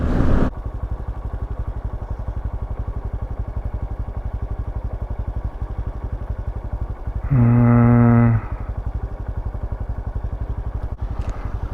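A Honda Super Cub 125 motorcycle engine runs steadily throughout, a dense low rapid pulse held at constant strength, with a brief louder horn-like tone partway through; no talking.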